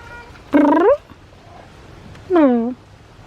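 A cat meows twice, two drawn-out, clear calls about two seconds apart against a quiet background.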